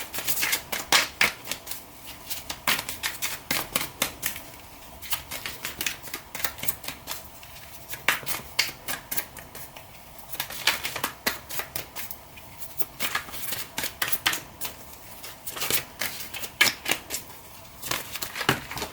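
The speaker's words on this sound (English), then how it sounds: "I am trying this new way of shuffling" Tarot cards are riffled and shuffled in quick bursts of crisp snapping and flicking, coming in irregular clusters over a long stretch with no speech.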